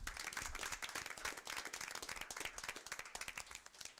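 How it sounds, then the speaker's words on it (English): An audience at a school board meeting applauds a student, a dense, steady patter of many hands clapping close by that stays lively and full for the whole stretch. "Let's give him a round of applause"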